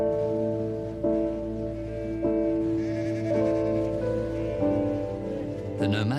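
Sheep bleat on open winter grassland in China, at around -30 degrees, where nomadic herders keep their flocks, with several drawn-out cries repeating over a steady background hiss.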